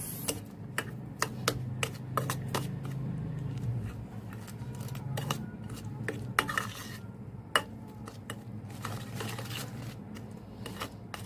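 A spoon scrapes and clinks against a bowl while shrimp marinade with spices and lemon is stirred, with irregular light taps and knocks over a low background hum.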